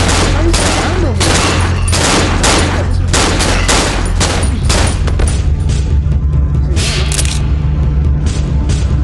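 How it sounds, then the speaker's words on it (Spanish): Enemy gunfire in the horror video game Cry of Fear, a loud, dense barrage of rapid repeated shots and booms, with a voice speaking over it. "¡Está disparándome!"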